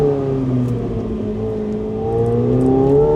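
McLaren 750S engine pulling hard under acceleration from inside the cabin, a steady loud drone with rising harmonic tones and no talking over it.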